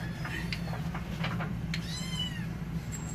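A kitten meows several times in a clear, rising and falling series against a steady low room hum, close and moderately loud with no talking over it.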